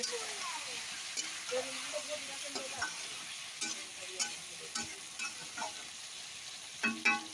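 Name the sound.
frying potatoes with chilli, onion, ginger and garlic in a pan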